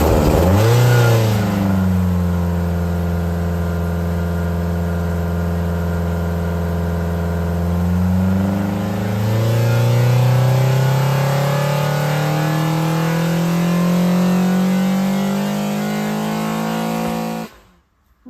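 Ford Zetec Blacktop engine fitted with long intake trumpets running on a dyno, a loud steady rev that climbs and holds for about seventeen seconds, then cuts off abruptly at the end.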